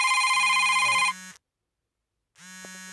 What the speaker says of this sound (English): Salakia, phone call came through.